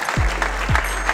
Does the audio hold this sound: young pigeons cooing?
no